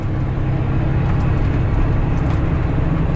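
Kenworth W900B truck with a CAT C13 engine, its jake brake a steady loud low rumbling drone held unbroken for the whole stretch, with no voices.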